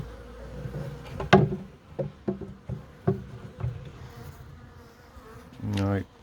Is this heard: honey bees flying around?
yes